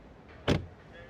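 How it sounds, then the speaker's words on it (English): A single solid thunk as a Porsche Macan GTS door shuts, one short loud broadband impact standing out against a quiet background, with no talk over it. "Now to the interior with the door closing sound."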